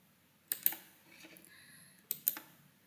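Mouse clicks on a job listings website, two paired bursts of sharp, close clicking separated by a brief quiet gap, with no one speaking.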